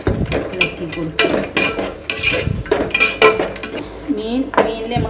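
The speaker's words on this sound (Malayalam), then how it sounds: "തൈര് ഒഴിച്ച് കൊടുത്ത് നന്നായിട്ട് ഇളക്കി കൊടുക്കുക." A spoon scrapes and clinks against a metal pan, stirring yogurt into fried ginger-garlic masala for fish biryani. The contact sounds are close and come in irregular bursts, with brief voice-like sounds near the end.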